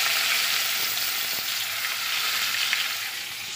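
Onions sizzle and fry steadily in hot oil with bay leaves in a pan, a dense continuous crackle close by with no talking, for a Bengali chicken curry.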